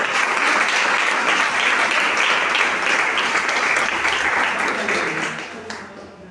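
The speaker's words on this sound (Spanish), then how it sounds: "¡Apláudele a Cristo!" A church congregation applauding, a loud, dense wash of clapping that holds steady before tapering off near the end, with some voices mixed in.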